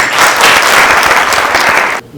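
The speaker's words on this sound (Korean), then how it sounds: "우리 선배님 모두를 위해서 박수 치겠습니다" Business forum audience in a hall clapping together, loud and dense for about two seconds before cutting off abruptly.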